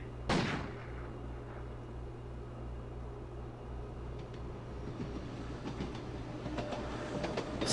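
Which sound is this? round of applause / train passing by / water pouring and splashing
train passing by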